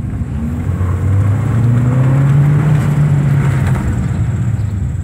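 A 2015 Hyundai Sonata Eco with a modified air intake accelerates hard, its engine drone rising steadily in pitch over a loud, constant road roar heard from inside the cabin.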